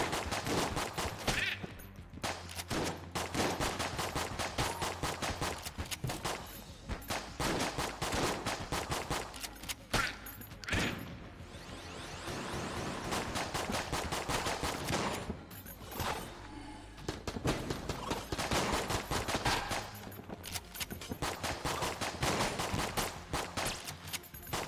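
Rapid bursts of gunfire from a trank gun in the Enter the Gungeon video game, dense and loud, firing in quick repeated volleys across the whole stretch with only brief pauses.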